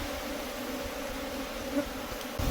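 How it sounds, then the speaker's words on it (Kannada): Asian honey bees (tuduve) brought from the forest swarm into a hive box, a steady close droning hum of many wings that stays loud and even throughout, with no voices. "ಈಗ ಜೇನುನೊಣಗಳೆಲ್ಲ ಒಳಗಡೆ ಹೋಗಿ ಸೇರ್ತಿದೆ"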